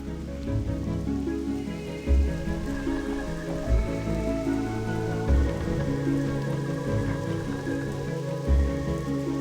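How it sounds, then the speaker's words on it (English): Rain falling in Teldrassil in World of Warcraft Classic, a steady patter of drops on surfaces with a low ambient hum beneath and a few soft thumps, no voices. "It's a rainy day here in Teldrassil."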